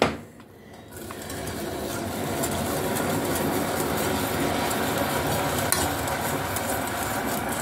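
A cocoa mixture worked with a wire whisk gives a continuous, even swishing and scraping that runs unbroken after a short quiet opening, fairly loud and close with no voices.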